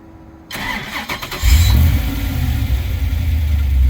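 An LS V8 engine in a Porsche 914 with a Boxster S transaxle cranks briefly, then catches and settles into a loud, deep, steady idle with a low rumble.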